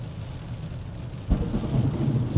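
Thunder rolls during a storm with rain, a low rumble that swells partway through and continues steadily over the background wash of rain.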